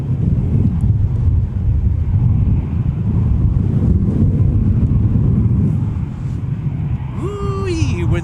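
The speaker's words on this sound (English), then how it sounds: "wind's starting to pick up a lot more." Strong gusting wind at MSP airport roars steadily across the microphone as a loud, continuous low rumble, easing slightly toward the end, where a brief voice is heard.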